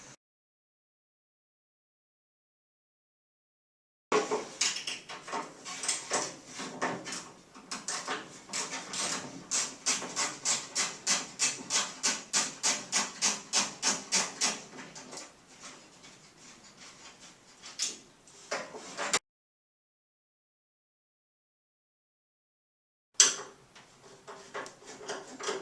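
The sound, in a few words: unscrewing and pulling out a Ford Mustang door handle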